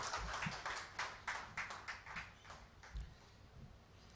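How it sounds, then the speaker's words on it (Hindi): A small audience at a classroom event claps for a teacher, a faint, uneven patter of hand claps with some louder individual strikes and low thumps, distant and quiet throughout. "अंकित सर के लिए जोरदार तालियां"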